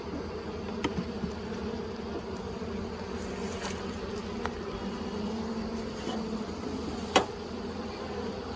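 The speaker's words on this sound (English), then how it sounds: "You're gonna have some serious bunches of bees here." Honey bees hum steadily around an opened nuc hive during an inspection of a newly transferred colony, a continuous close drone with a few faint clicks and knocks from handling.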